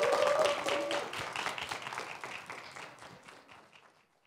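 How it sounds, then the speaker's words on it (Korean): Applause rises briefly in a hall at a pansori performance of Simcheongga, then thins and fades to near silence over about four seconds, somewhat distant and soft. "다시 한번 뜨거운 박수로 무대 열어보도록 하겠습니다."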